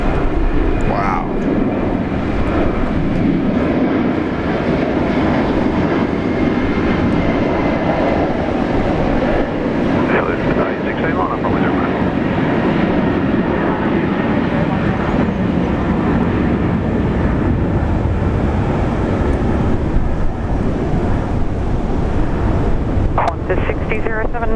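A Qantas airliner taking off at Brisbane International Airport, a steady broadband jet roar with wind buffeting on the microphone that holds loud and continuous throughout, with people talking faintly over it.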